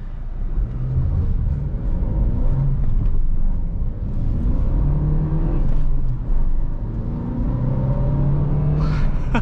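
A Dacia Duster 4x4 fitted with a 150 hp Mercedes engine drives along a dirt road, its steady engine rumble and drivetrain whir filling the cabin with slight surges as it pulls, with no talking.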